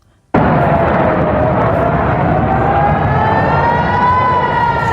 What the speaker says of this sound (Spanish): Son las sirenas y los bombardeos sobre el centro de Israel.